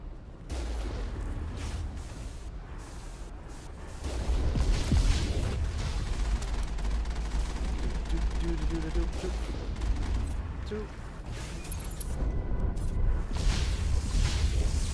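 Gunfire crackles in the Mass Effect video game, dense rapid bursts of shots running continuously and growing busier midway, loud and close.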